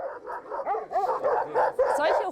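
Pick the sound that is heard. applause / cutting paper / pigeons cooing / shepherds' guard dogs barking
shepherds' guard dogs barking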